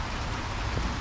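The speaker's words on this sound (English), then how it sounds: "Just a slow rain." Soft, steady patter of light rain, a brief continuous hiss of drops falling gently, no talking.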